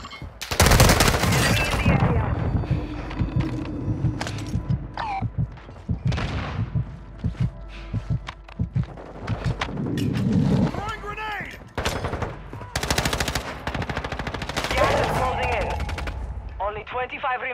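Rapid bursts of automatic gunfire and single shots crack through a Call of Duty Modern Warfare II Resurgence duos match, loud and sustained across the whole stretch, with booms and radio-style voices mixed in between volleys.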